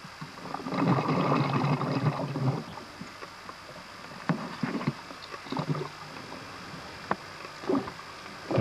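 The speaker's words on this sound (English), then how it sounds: "The sounds you're hearing there are the divers below that's doing the filming." Cave divers filming underwater produce bubbling and gurgling bursts, a long burble at first followed by intermittent sharp clicks and short splashy pulses, close and fairly quiet against a steady watery hiss.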